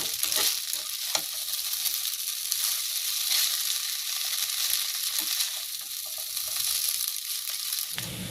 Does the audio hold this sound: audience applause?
no